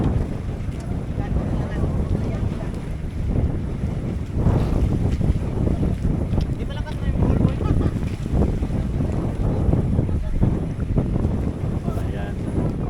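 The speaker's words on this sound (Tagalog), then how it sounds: "malakas yung hangin." Strong gusty wind buffets the microphone in a loud, continuous roar at sea off Bulalacao, Oriental Mindoro, with water and boat noise underneath and a voice faintly present.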